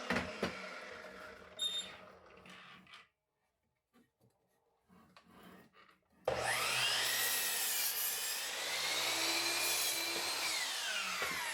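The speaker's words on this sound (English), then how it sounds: "I'll use it to trim off the sides to make an even square on my 2x4 top" Light scraping and tapping of wood, a pause, then a loud miter saw whines steadily through a 2x4 for several seconds, close by.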